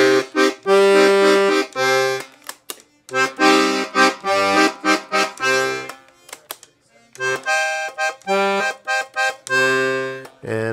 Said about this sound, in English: We've got 120 basses with three registers that sound like this.